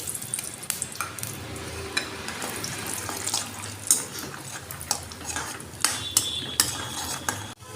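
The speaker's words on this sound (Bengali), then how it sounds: "কিছুটা চীনাবাদাম ভেজে নেব।" Peanuts stirred and frying in oil in a wok, with a steady low sizzle under repeated scraping and clinking of a metal spatula against the pan, fairly close.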